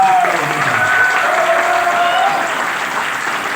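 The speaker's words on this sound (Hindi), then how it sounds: "जोरदार तालियां" Loud audience applause at a leadership development conclave training event, dense sustained clapping from a large crowd filling the room, with faint voices and a high tone running underneath.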